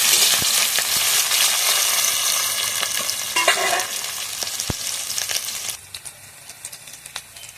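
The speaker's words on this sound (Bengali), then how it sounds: "কেটে রাখা চিংড়ি মাছ, পেঁয়াজ একসাথে ভালোভাবে ভেজে নেবো।" Prawns, onion and green chili fry together in a pan, a loud continuous sizzle broken by scraping stirs, easing to softer crackling and a few sharp taps near the end.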